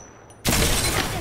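Sudden loud burst of gunfire in Apex Legends, starting sharply after a near-silent moment and continuing as a dense, close crackle.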